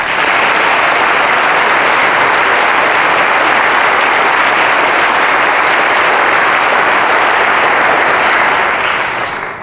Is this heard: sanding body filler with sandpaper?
no